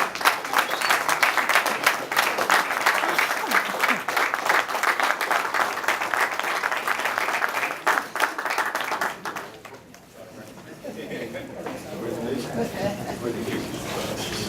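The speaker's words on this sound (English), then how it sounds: "Huge round of applause" Applause for the Western Star Sports Club championship football team at a Bermuda football awards presentation, a loud sustained crowd clapping that carries on for about nine seconds before fading, followed by a softer murmur of the room.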